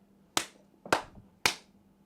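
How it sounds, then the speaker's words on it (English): Three sharp hand claps ring out at roughly half-second intervals, each crisp and close, in an otherwise quiet room. "I hope that clapping wasn't too loud for you."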